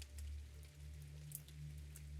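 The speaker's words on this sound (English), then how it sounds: "as gentle rain begins to fall from the sky" Gentle rain falls in a tranquil garden, a soft, steady patter on leaves and petals, faint and even throughout with no voices.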